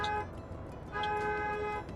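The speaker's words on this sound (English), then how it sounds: "How do I honk my horn?" A bus horn in the driving game Bus Bound sounds in two honks, a short blast followed by a longer sustained one, loud and close over faint engine hum.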